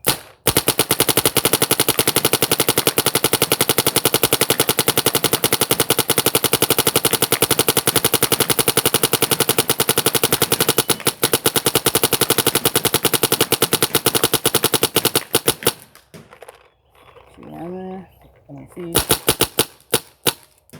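A paintball marker fed by a Virtue Spire 3 loader fires a long, rapid, unbroken string of loud close shots that stops abruptly near the end, followed by brief quiet and a few last shots.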